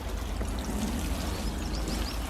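Water poured steadily over broad bean plants to soak them, a constant gentle splashing stream close by with faint birdsong in the background.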